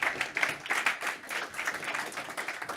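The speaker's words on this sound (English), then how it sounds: "please join me in applauding and welcoming Krzysztof." Audience applause welcoming a speaker on stage at a security conference, moderate and fairly distant, with a pulsing, uneven clapping texture that continues throughout without voices.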